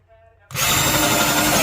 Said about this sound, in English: this is the Altocraft 20 volt lithium ion drill